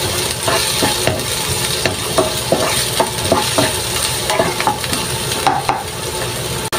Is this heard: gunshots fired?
no